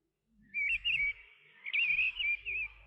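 Birds chirp and warble in a bright, continuous song heard as two close, loud phrases, set as a storybook tape effect in a forest scene.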